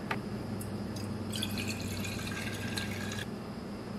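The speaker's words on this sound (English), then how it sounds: "just going to add a little bit of my bleach here." Bleach trickles and drips into a container just rinsed with hot tap water, a thin, steady liquid pour with brief splashy drips, fairly quiet and close with no talking.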